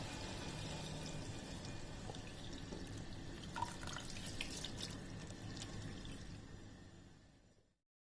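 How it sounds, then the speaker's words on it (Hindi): About a litre of water is poured into a clay pot of mutton kunna with cumin, coriander and turmeric, a continuous close splashing stream that fades out near the end. "पानी डाल देना है 1 लीटर।"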